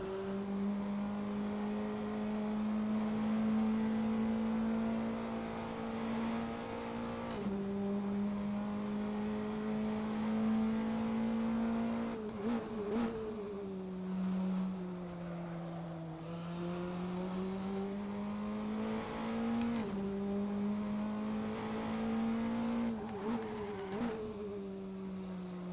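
Praga R1 race car engine lapping the Barcelona circuit in a sim racing game, a steady loud droning tone rising and falling with gear shifts and throttle, with brief sharp blips and downshifts for corners, running continuously with no voices.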